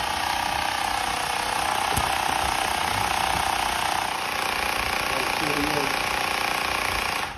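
A homemade air compressor pump for bike maintenance running continuously, a loud, dense mechanical chugging and rattling drone held up close for several seconds before cutting off at the end.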